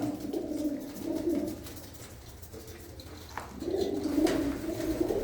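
Repeated low coos from a red Cheena pigeon come in two bursts separated by a quieter gap, close and clear with light background noise.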